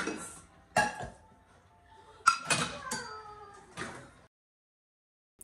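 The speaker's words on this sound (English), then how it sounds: "So let's separate pots from pans." Pots and pans clatter and clink in separate bursts as they are sorted out of a kitchen drawer near the stove, each knock sharp and close, with a sliding-drawer scrape and a quiet pause at the end.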